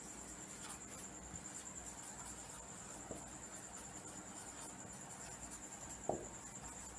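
Pen or marker strokes on a board during a chemistry lesson, faint scratchy bursts with a few soft taps, set against a constant high-pitched whine and quiet room noise.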